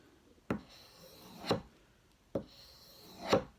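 Knife blade drawn across a leather strop loaded with sharpening compound, four separate soft rasping strokes spaced about a second apart, close and fairly quiet with no talk.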